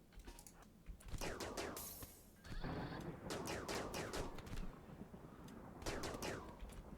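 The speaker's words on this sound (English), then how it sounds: "Well, I'm gonna shoot you." Gunfire in the video game Rimworld sounds as rapid clusters of sharp shots with some sustained bursts, fairly faint and set against busy game sound.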